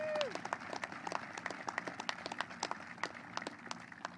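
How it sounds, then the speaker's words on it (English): A crowd at a navy ship commissioning ceremony in Wilmington, Delaware claps in a steady patter of many hands, fairly distant and faint, with a brief whistle at the start. "Another round of applause."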